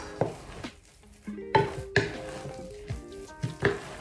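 A lentil mixture being stirred in a bowl, giving a handful of irregular scraping and clinking strokes of a utensil against the bowl, fairly close and with quiet gaps between them.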